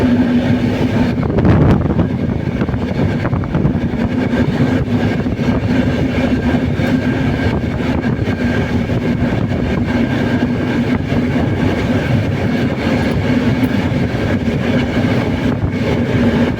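A train rolls past on a railway line in hilly country, its heavy rumble and rhythmic wheel clatter loud and close, continuous throughout.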